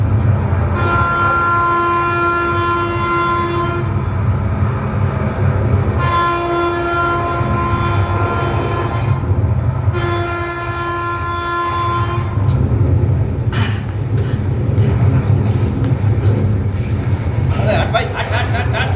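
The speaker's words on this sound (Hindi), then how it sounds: "अपने स्टेशन नाला सोपारा से चर्च गेट जाने के लिए लोकल ट्रेन" A Mumbai local commuter train rumbles and clatters steadily, its horn sounding in several long blasts, with voices faintly audible beneath the rail noise.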